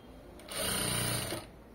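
Sewing machine stitching cloth in a short, steady burst of fast whirring that starts and stops within a couple of seconds, fairly quiet, with no talk over it.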